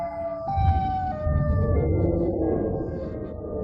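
A wailing electronic siren from a siren-headed guard in a Roblox game, with steady sweeping tones over a low rumble, loud and continuous throughout.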